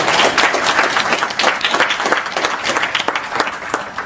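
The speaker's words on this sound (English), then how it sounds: "How about a round of applause for the chairman of ministry?" A crowd applauds loudly and continuously at a town hall meeting, many hands clapping in a dense, steady burst throughout.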